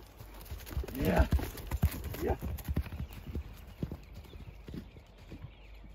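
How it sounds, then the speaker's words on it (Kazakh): A horse's hooves clip-clop in a quick, uneven rhythm close by, with a brief snort or whinny-like sound early on and outdoor background noise. "Кичине катуураак бастырып көрбөйлүбү атты?"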